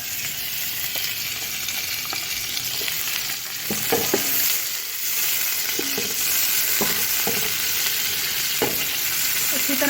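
Chopped onions sizzle in hot ghee for beef yakhni pulao, a loud steady frying hiss broken by the scrape of stirring, with no voices.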